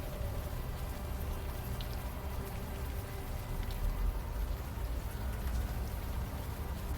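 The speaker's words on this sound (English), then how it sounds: "the warm rain is coming down" Warm rain falling in the video game Unavowed, a dense, steady hiss of drops pattering continuously on surfaces at fairly loud level, with no voices.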